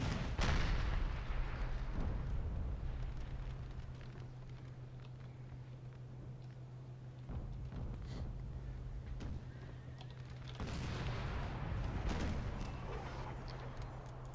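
Booming cannon fire from a Napoleonic-era Total War battle with Ottoman and French armies, heavy rumbling volleys rolling in and out under a constant low battlefield drone, with no one speaking.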